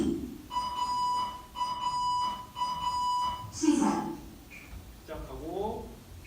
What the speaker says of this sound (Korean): 이거는 타바타 운동 타이머고요. 이런 식으로 뭐 시간 알려주고